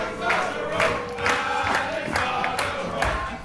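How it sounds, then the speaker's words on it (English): Wrestling crowd cheering for Alexander Roth during his match against Levi Muir, a dense, continuous roar of voices with rhythmic swells roughly every half second, like chanting or clapping, with no clear speech. "The crowd getting behind Roth."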